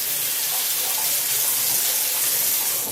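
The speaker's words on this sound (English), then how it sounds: "Let me get some hot tap water going." Hot water running steadily from a household tap, a close, continuous bright splashing rush with no pauses.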